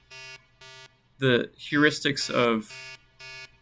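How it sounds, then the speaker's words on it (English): Prototype alarm app going off: short repeated electronic buzzer tones in an even on-off pattern, pausing while a person speaks, then resuming. "you can hear that the alarm is going off"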